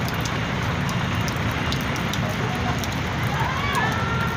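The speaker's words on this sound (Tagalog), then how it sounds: "lakas ng agos" Strong floodwater rushes along the Pasig floodway as a dense, continuous roar, loud and steady with no pauses, with faint traffic noise in the distance.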